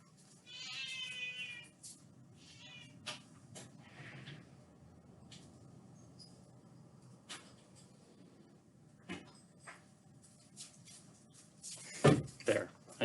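A pet cat meows to be let outside, several short meows in a quiet indoor room, with faint rustling and knocks around them.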